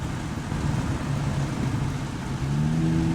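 A car engine hums and revs gently under light throttle during a driving lesson around cones, a steady low drone that rises in pitch near the end, with no talking.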